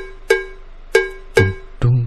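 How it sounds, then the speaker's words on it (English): Four bright, ringing bell strikes from a Dora the Explorer PC music game, each a sharp attack with a shimmering decay, evenly spaced over two seconds with no talking. "It's the sound of a bell."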